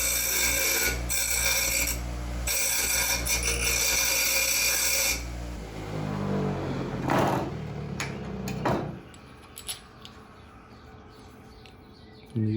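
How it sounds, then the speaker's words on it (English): A grinder smooths the rough areas of a jacking puck for a C5/C6 Corvette, a loud, close, gritty whir for several seconds that then winds down into scattered scraping contacts and quiet handling noises, with no voices. "Touch up the rough areas on the grinder."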